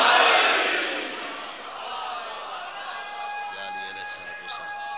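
A large crowd at a religious majlis gathering in Islamabad roars a loud collective chant of the slogan Haidri with raised hands, the shout surging at the start and then fading into a sustained crowd murmur.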